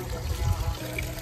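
A child pours water on a rooftop, producing a continuous splashing, trickling wash that swells briefly in the middle before settling, close by with no talking.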